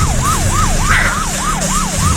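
A wailing police patrol car siren rises and falls in a rapid, regular cycle, loud and close over a low rumble of traffic, with no voices.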